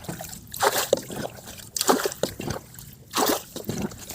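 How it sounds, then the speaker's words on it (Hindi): Pond water is poured into a small boat used in a water chestnut pond. Splashy sloshing bursts come in three or four pours with brief pauses between them, close and moderately loud, with no talk. "मैं अपनी डोंगिया में डालता हूँ अपने ही तालाब का पानी"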